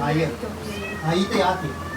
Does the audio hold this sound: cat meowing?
yes